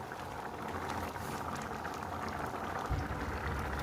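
Dal (lentils) with spices and green chilli bubbling at a steady rolling boil in a pot, a dense continuous burble of popping bubbles close by, with no voices.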